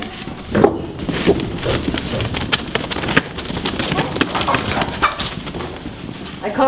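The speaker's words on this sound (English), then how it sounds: "Call this the running of the goats." Goats on a farm run past with a quick, scattered clatter of hooves close by, and faint voices are heard now and then.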